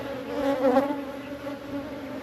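Honey bees at a backyard hive, a close, steady, wavering buzz of many insects that swells briefly and then settles, heard alone.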